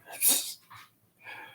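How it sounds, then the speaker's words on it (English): A dog snorts or sneezes sharply at close range, followed by a couple of softer snuffling bursts, heard during a casual sports chat about baseball players. "That was my dog."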